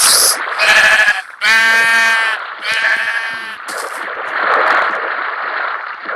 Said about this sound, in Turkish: Arkanda koyun var size